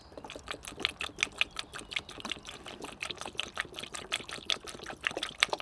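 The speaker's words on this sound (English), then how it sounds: "So I'll just start pouring that in through the funnel." Coolant mix glugs and trickles through a funnel into a Mazda MX5 radiator, a close, uneven run of bubbly pulses and splashes that continues throughout with no talking.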